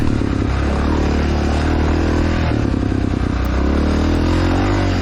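A 1993 Honda XR600R dirt bike runs loud and steady through a cross-country race, its big single-cylinder engine droning and revving continuously with clattering chassis noise throughout.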